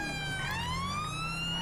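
Police siren in the LSPDFR mod for GTA V, a steady wailing tone that sweeps slowly upward, loud and continuous with no talk over it.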